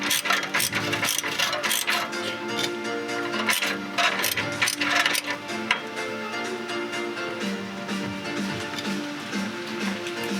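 A ratchet works on a bolt of a Subaru Liberty wagon exhaust, rapid clicking strokes repeating in busy bursts, close and loud, over a continuous mechanical background.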